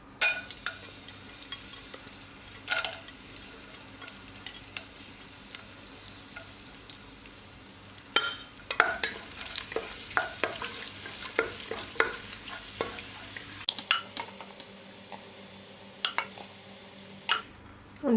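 Raisins frying in coconut oil for chicken biryani: a soft continuous sizzle with frequent light scraping and ticking of a spoon stirring in the pan, quiet and close, with no talking.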